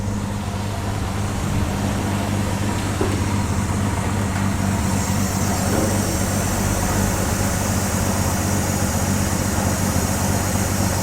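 A Ford Falcon Ranchero straight-six (170/200) with Holley Sniper EFI idling smoothly after starting, a steady low rumbling hum with even engine tone throughout, close and continuous with no talking.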